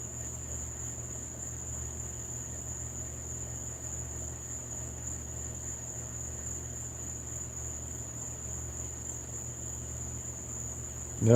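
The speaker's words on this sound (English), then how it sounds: "No, that frog is loud." At night, a frog keeps up a loud, unbroken high-pitched trill that holds steady throughout, with no voices.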